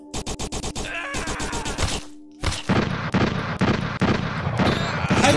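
Rapid gunfire in the VR shooter Rapid Fire: a fast, even volley of loud shots, a brief gap, then dense continued firing with heavy impacts.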